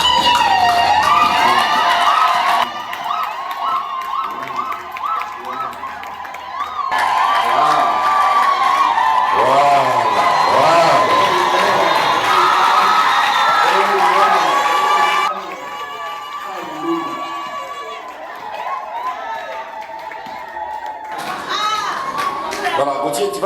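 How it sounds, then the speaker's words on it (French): Wedding guests cheer and shout in a lively crowd as the groom unveils the bride, loud excited voices and calls rising in waves over several seconds, with a dip partway and children's chatter among the noise. "And the really true acclamation is"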